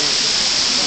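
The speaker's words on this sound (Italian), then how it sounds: "e fuori piove." Steady rain falls outside at night, a dense, even hiss of drops with no breaks, loud and close throughout.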